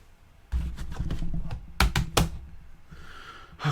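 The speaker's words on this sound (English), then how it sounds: "Weird, our lock sounds like a mouse click." A few sharp mechanical clicks, close and dry, scattered among soft handling and shuffling noises indoors.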